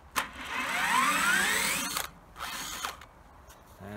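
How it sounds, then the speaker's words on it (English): Ratchet strap being released on a Panther Intersect milling machine setup, a loud rising mechanical ratcheting whir followed by a couple of shorter clicking releases, close and alone. "we'll undo this strap"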